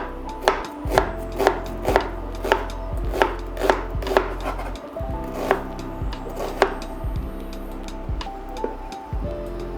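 A knife slices thin pieces of lion's mane mushroom or onion on a cutting board while a plov is being cooked, giving a steady series of crisp, close chops over a low background hum.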